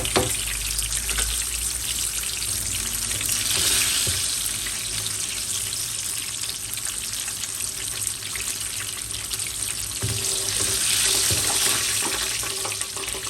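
Pot of eggplant stew with lentils, chickpeas, butter and garlic simmering and bubbling on the stove, a steady broadband hiss with soft liquid crackle throughout, alone and close.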